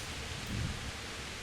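Steady rainfall with a low rumble of thunder in the medieval world of Kingdom Come Deliverance, a soft, even wash of noise with a faint swell of deep rumbling, quiet and without voices.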